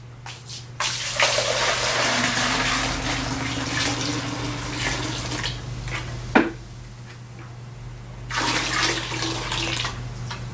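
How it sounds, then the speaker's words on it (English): Water poured from one bucket into another at a florist's, a steady splashing stream lasting several seconds, then a pause with a brief knock and a second short pour near the end, with a constant low hum behind it. "I just take my other bucket and I just share the water with the other"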